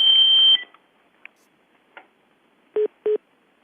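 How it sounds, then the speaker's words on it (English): A telephone hold tone sounds on a conference call: a sustained high electronic tone cuts off, followed by a few faint clicks and then two short, loud beeps in quick succession. "if you put yourself on hold, all of us hear the hold tone"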